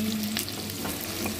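Onions, green chilies and spices fry in a pan with a soft, continuous sizzle, close and steady across a brief moment with no voices.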